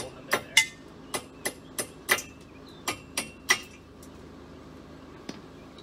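Nine sharp metallic hammer strikes ring out at an uneven pace, close by, knocking bolts out of a fifth-wheel RV trailer brake assembly, then a quieter pause with one faint final tap.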